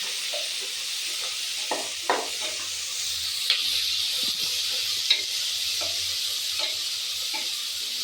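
Onions and green chilies sautéing in a pan with ghee for a country-chicken biryani, giving a steady, close sizzle with a few soft stirring scrapes and clicks throughout, no talking.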